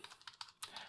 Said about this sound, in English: we're going to type in D colon backslash sources backslash